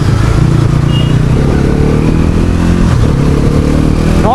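A 2025 NS 400 motorcycle accelerating hard with quick shifter gear changes, its engine note loud and close, with brief breaks in the rising pitch as gears shift.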